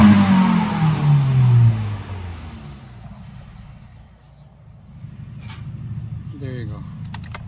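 A Subaru WRX running catalytic converters with no cutbacks revs loudly up front, its low engine roar swelling then dropping back to a steady idle rumble, with some mechanical clicks toward the end.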